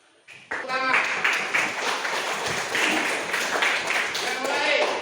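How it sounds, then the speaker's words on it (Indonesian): Classroom clapping from a group of students, starting abruptly after a brief quiet moment and continuing as a loud, dense burst of applause with some shouting voices mixed in. "Tepuk tangan."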